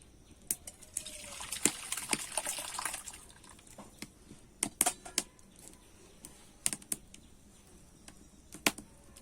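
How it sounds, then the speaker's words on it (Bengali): Fresh chhana curds, made with vinegar, are poured into a clean white cloth: a soft, wet splash and trickle in the opening seconds, followed by scattered light taps and handling noises. "এবারে কিন্তু আমি ছানাটা ঢেলে নেবো"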